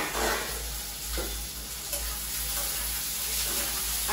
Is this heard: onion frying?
yes